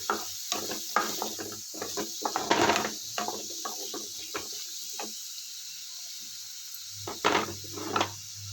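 Lentils (dals) and chillies roasting in a pan for ridge gourd chutney give off scattered dry clicks, rattles and scraping stirs, steady at first, pausing briefly, then resuming in a few close bursts.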